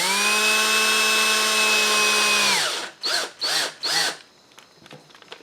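A power drill drives screws into a plastic base plate for a ZD Racing Pirates 3 RC car, with one long loud whine that winds down, then three short bursts as the screw is snugged, close up.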